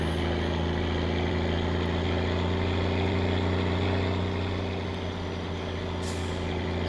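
A GIFU truck in the My Summer Car video game, powered by a 14-liter Cummins diesel engine, drones loudly and steadily, with a deep, constant low rumble and a brief hiss near the end.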